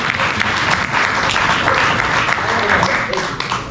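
Sustained audience applause fills the room for an encouraged guest, dense and loud, with many hands clapping continuously from start to finish.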